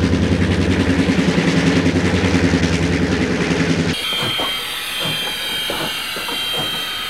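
A Reading railroad train rumbles and clatters as it passes under Dalton Street in Emmaus, dropping toward Emmaus Junction: a loud, pulsing roar for about four seconds, then a thinner, rhythmic clicking of wheels on rail.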